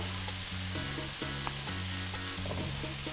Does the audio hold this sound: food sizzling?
yes